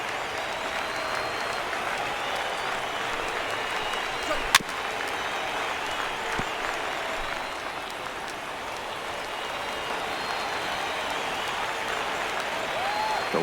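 A baseball stadium crowd in MLB The Show 19 rises to its feet and applauds at a spring training game, a steady wash of clapping and cheering that runs throughout beneath a commentator's voice.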